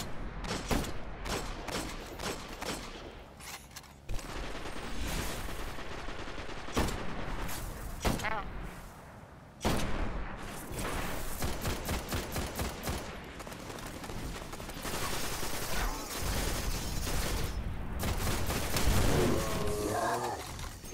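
Rapid bursts of gunfire and explosions from the video game Destiny, loud and dense throughout, with repeated volleys and booms layered over occasional speech.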